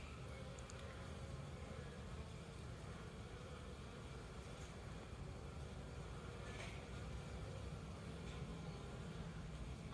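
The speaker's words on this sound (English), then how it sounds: "Bees all around me here." Bees buzz around flowers in a faint, steady, continuous drone with a few brief louder passes close by, set against quiet outdoor background noise.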